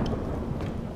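Heavy rain pours steadily with a deep rumble of thunder rolling underneath, loud and continuous throughout the brief moment with no voices.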